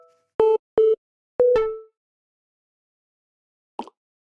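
A phone busy signal sounds in Simulacra: a few loud, evenly spaced tones, the last one trailing off, then a brief click after a pause.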